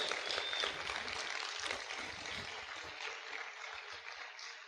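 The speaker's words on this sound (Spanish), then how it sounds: "Vamos a aplaudir fuerte al Señor en esta hora." A congregation in a Spanish-language church service applauds, a continuous crackling patter of many hands clapping at a moderate distance, sustained evenly throughout.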